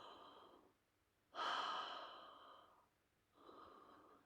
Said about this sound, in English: Breathe like you're going to fog up a mirror. When you exhale, you make this sound.